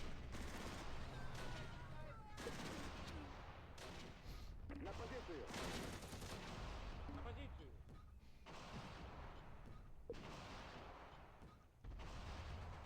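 Gunfire, mortars and T-34-85 tank cannon fire in the war game Close Combat, with steady volleys of shots and heavy booms rolling through a dense battle soundscape.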